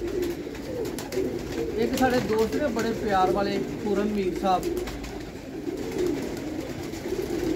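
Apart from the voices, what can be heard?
pigeons cooing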